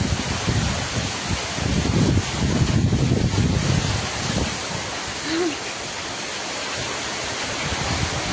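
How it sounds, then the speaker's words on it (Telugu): Heavy rain driven by gusty wind outdoors, a dense roaring wash that swells in the first half and then settles into a steady downpour. "చూడండి ఫ్రెండ్స్, చాలా వర్షం అయితే వస్తుందండి."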